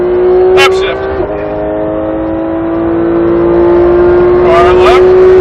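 A car engine on track, held at a steady drone and then pulling up in pitch as the throttle is squeezed, loud and close, with a driving coach speaking over it.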